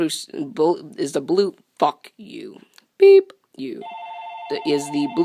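A telephone rings with a steady electronic tone near the end, rising under and between bursts of someone talking.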